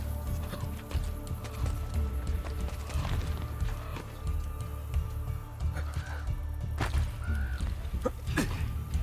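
Horse hooves clip-clop at a steady walking pace in Assassin's Creed Brotherhood, moderately close, layered over game ambience with occasional faint clatters and a soft whinny-like cry.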